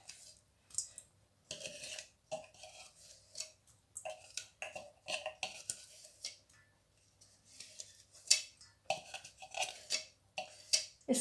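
Metal cooking utensils and bowls set down one after another on a kitchen counter while preparing seekh kebab, a series of close, sharp clinks and taps in irregular bursts with quiet gaps.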